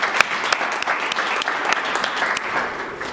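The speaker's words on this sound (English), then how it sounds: "so let's give him a round of applause" A room of guests applauding at a college of business faculty and staff awards banquet, close and lively, with distinct individual claps popping out of the dense clapping over about three seconds.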